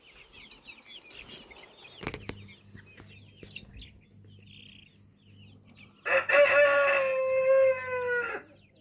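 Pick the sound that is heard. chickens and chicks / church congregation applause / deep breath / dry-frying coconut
chickens and chicks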